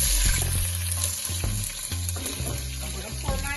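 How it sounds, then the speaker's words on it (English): Green peppers dropped into hot oil over a high flame for Caribbean peppered shrimp, giving a loud, steady sizzle and crackle with some clatter from stirring, close up and with no talking. "the oil is hot. As you can see, the flame is high. Because I want it on a high flame, I'm going to go ahead and put my pepper in."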